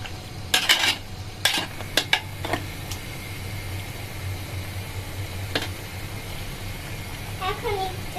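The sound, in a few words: stirring beef biryani in a pot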